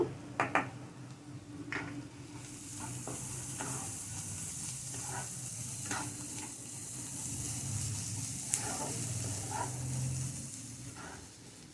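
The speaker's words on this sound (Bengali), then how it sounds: "একটু ভাজা ভাজা হবে মশলাটা" Spice paste fries in a pan for a paneer and potato dish, a soft continuous sizzle close by, with scattered clicks and light taps of a spoon against the pan.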